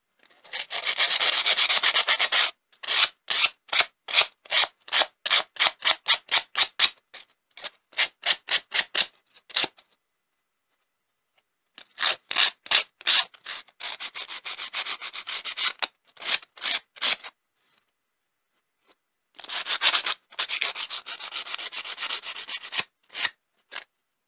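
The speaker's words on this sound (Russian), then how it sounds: "Отпилили края, вот эти, зачищаем наждачкой." Board edges being sanded by hand with sandpaper, giving rapid rhythmic scratchy strokes in several bursts separated by short pauses, close and dry with no talking.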